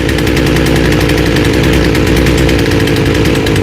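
A loud, steady chainsaw engine idling continuously during carburetor tuning, with a rough buzzing drone and fast mechanical flutter throughout.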